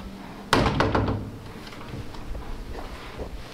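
Apartment double doors shut with a single loud thunk and a brief rattle as they settle, followed by quiet room tone and faint shuffling.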